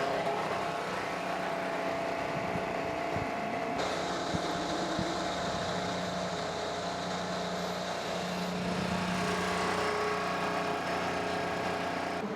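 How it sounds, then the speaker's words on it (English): Several IndyCar race car engines idle and rumble together at a steady, loud level at the Thermal Club Grand Prix start, with a rise in pitch partway through as the revving builds. "Drivers, start your engines!"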